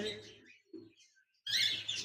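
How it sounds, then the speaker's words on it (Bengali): A caged pair of lutino red-eye cockatiels gives short, bright chirps that come in scattered bursts, ending in a louder flurry of shrill calls, with a voice faintly audible at the start. "এখানে দেখতে পাচ্ছেন একজোড়া লুটিনো রেড আই কোকাটেল পাখি রয়েছে"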